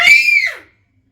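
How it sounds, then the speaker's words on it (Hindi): A child locked in a room lets out one loud, high-pitched scream lasting about half a second, close and piercing, before sudden silence. "पूरा दम लगा के चिल्ला रहा है।"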